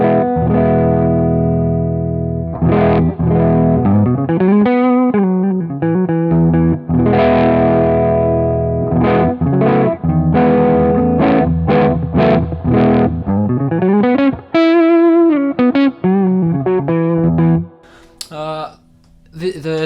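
Gibson Les Paul played through a Boostache boost pedal with the tone knob turned fully up, giving a bassy, driven tone; loud sustained chords and single-note runs ring out continuously, then thin out near the end.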